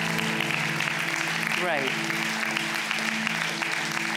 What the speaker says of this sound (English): Do you know why people are applauding?